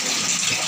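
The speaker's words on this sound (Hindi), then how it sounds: "पानी बार बार भर जा रहा है तो बहुत आवाज़ आ रही है बैकग्राउंड साउंड में" Water filling from a tap at home, a loud continuous rushing, gushing hiss heard alone and close up for under a second.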